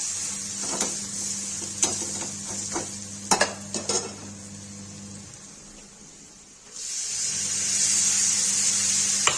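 Eggplant stirred in a pan with red chili and turmeric, with a sizzling fry underneath and sharp utensil scrapes and clinks against the pan, close and clear, sizzle pausing briefly then returning louder.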